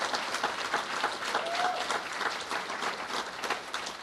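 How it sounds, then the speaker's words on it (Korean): A church congregation gives warm, sustained applause to honour standing mothers during a service, a lively crowd of clapping hands with a few voices mixed in. "우리 한번 뜨거운 박수로 우리 한번 격려할 수 있기를 바랍니다."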